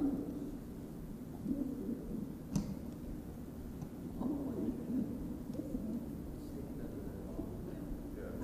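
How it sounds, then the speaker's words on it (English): A flock of racing homing pigeons is released from transport trucks at a pigeon race, heard as faint, distant cooing and fluttering over a low steady background. "That is a lot of birds."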